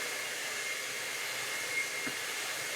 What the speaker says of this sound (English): And then so does just hitting it with the hairdryer.